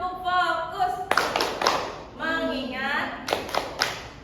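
Schoolchildren in a classroom doing the tepuk fokus clapping game, voices chanting along with a sharp cluster of hand claps in the middle and another quick burst near the end.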